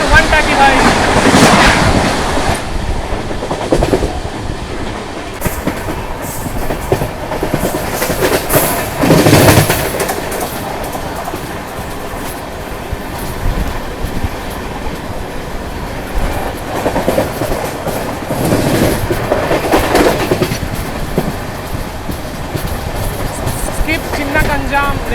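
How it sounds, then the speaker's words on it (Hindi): The Coromandel Express passes through a railway station at about 135 km/h in a loud, long roar of wheels and rushing carriages. Wind buffets the microphone, and the rumble swells and fades in waves. "ये निकली आपकी कोरोमंडल एक्सप्रेस फ्लैट 135।"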